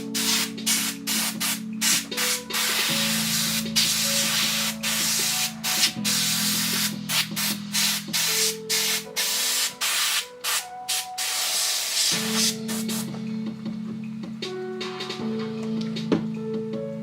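Hissing bursts of spray paint coat a Lord of the Rings miniature base, with short pulses repeating one after another over a steady tonal background that sounds like music.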